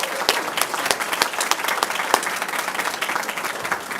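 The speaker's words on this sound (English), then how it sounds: "So I'd like to applaud her." A town board of education meeting erupts in warm applause for a teacher retiring after 29 years, a dense round of clapping with crisp individual claps, sustained for a few seconds.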